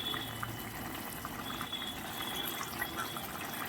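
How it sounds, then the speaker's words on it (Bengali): Water poured into a pan of vegetable curry with potato, pumpkin and radish, a steady low watery rush and bubbling that runs on without a break, close and fairly soft. "আমি অল্প জল দিয়ে দিচ্ছি।"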